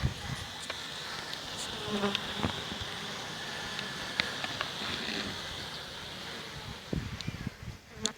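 Buckfast honeybee colony wintering in a hive, a steady close buzzing hum from the clustered bees that continues throughout, with a few brief knocks and rustles near the end.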